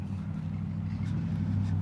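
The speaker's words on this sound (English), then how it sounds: "And there's this loud truck coming up the street." A loud white truck drives up a street, giving a steady, close, low engine rumble that holds evenly throughout with no talking.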